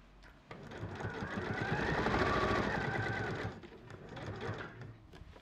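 A sewing machine runs through a bold patterned dress fabric in one steady stitching run of about three seconds, whirring fast and close, then slows to a few softer stitches.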